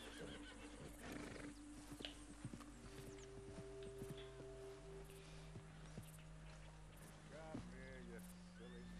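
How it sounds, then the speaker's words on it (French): Agitated horses neigh and whinny in the open-world game Red Dead Redemption II, with repeated calls over hoof clip-clops, a sustained background drone and scattered speech. "Vous devez calmer les chevaux agités pour pouvoir les approcher."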